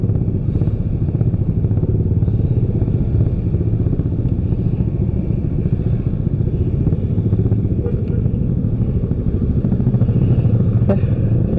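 Motorcycle riding through a traffic jam on a side road between Ciawi and Cicurug, a steady close engine drone with rattling clatter, loud and continuous with no break.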